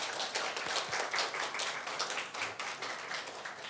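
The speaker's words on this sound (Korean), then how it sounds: "한번 우리 박수로 환영을 좀 하겠습니다" A church congregation at a Sunday worship service claps in welcome, a close, lively patter of hands with distinct individual claps rising and falling over a few seconds.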